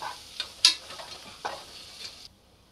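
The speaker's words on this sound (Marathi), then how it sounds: "आलं आणि लसणाचा कच्चेपणा जाईपर्यंत आपण या तेलामध्ये याला परतवून घेऊ" Green chillies and ginger-garlic paste sautéing in hot oil, a steady sizzle with a few sharp clinks of a spoon stirring the pan, close and clear, cutting off abruptly near the end.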